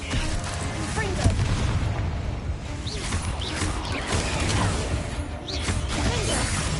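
Confringo spell blasts in Hogwarts Legacy on PS5 keep booming and crashing, with whooshes and rumbles layered into a dense, continuous barrage of combat noise.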